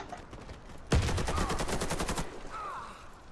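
A grenade blast in an online shooter game bursts loudly and close, followed by a rapid, rattling burst of gunfire lasting over a second before fading into faint background game noise.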